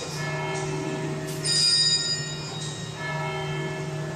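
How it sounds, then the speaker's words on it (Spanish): Large church bells peal at the consecration of a Mass, a dense ringing wash of overlapping metallic tones that swells briefly and keeps sounding steadily, fairly loud with no talk over it. "Suenan las campanas de la iglesia, no son las pequeñitas."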